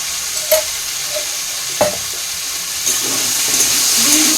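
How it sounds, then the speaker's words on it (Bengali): White cooking oil goes into a hot wok for frying parathas, giving a steady low sizzle with a few faint clicks and scrapes near the start, and no one speaking. "আর এদিকে কড়াইটাও গরম হয়ে গেছে, এর মধ্যে পরোটাগুলো ভেজে নেব। তো তেল দিয়ে দিচ্ছি"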